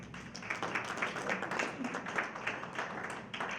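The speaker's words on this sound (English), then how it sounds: "let's clap hands, guys." An audience claps hands during a breakfast seminar with a government minister, rhythmic and fairly faint, heard at a distance and mixed with crowd murmur.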